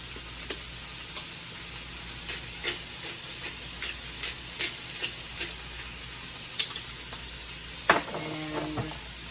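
Onions and garlic softening in a pan for chicken paprikas, a steady close sizzle with scattered light ticks and clinks of stirring, no talk.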